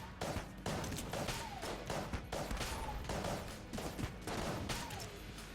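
Explosive rounds fire in the Enter the Gungeon video game: dense, rapid bursts of gunshots with short pauses between volleys, loud and continuous, no talking.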